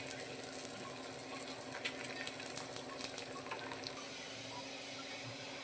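Layered lachha paratha brushed with oil cooking on a hot tava, giving a steady close sizzle and crackle of frying that continues without a break.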